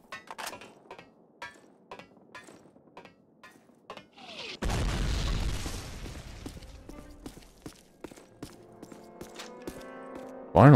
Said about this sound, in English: I threw a lot of grenades.